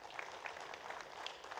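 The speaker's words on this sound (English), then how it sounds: "a big round of applause for them as well" An audience at the KPIT Sparkle Grand Finale 2025 corporate event gives a round of applause. The clapping is a moderate, continuous patter of many hands with small irregular peaks, heard on its own.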